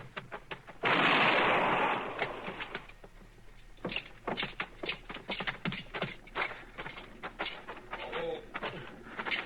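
A single loud gunshot bursts out in a Western radio drama, followed by a run of sharp clattering taps and footsteps-like knocks at moderate level, with no talk during it.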